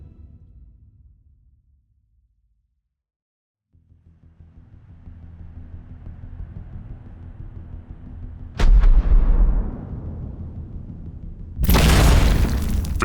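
Weapons fire strikes a spaceship in a science fiction audio drama: a low rumbling hum builds, then two heavy booming impacts crash in a few seconds apart, each leaving a rolling, crackling tail.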